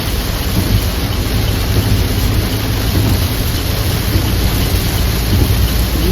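Heavy rain with big drops pours down in a dense, steady roar, loud and continuous throughout, with a low rumble underneath and no voices.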